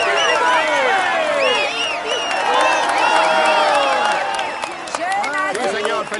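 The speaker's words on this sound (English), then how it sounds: "Come on, let's applaud him once more." A Tour de France crowd at the 2017 Stage 5 finish at La Planche des Belles Filles applauds the yellow jersey winner: loud, dense, continuous clapping mixed with cheers, whoops and shrill whistles.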